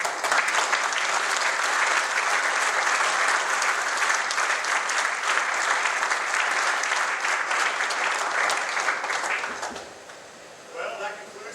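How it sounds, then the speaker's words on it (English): Sustained audience applause at a naval aviator winging ceremony in Pensacola, a loud, dense crowd of clapping that runs steadily for about nine seconds before fading out, with a voice briefly heard afterward. "Please join me in one more round of applause for the world's newest Naval Aviators."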